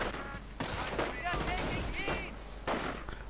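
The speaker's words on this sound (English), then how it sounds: "first shots fired from the Grenadiers, opening up on the riflemen" Grenadiers opening fire on riflemen in a strategy video game, a rapid fusillade of crackling gunshots in clustered bursts, fairly faint and continuous.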